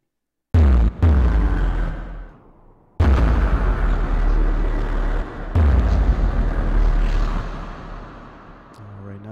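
Synthesized movie-trailer explosion effect built in the Massive synth with tube grit and reverb: loud, dense booming bursts with deep low-end rumble, a sharp onset, a brief dip, then two more heavy blasts that sustain and slowly decay, no talking.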